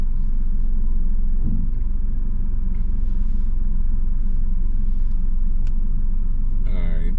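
A car reverses at low speed during a driving test, heard from inside the cabin as a loud, steady low engine rumble with a brief creak near the end and no distinct beeping.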